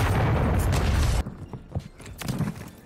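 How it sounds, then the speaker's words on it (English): A cruise missile explodes in the video game Modern Warfare 3, a loud, dense booming blast that cuts off abruptly and is followed by scattered quieter crackles and thumps. "Friendly cruise missile deployed."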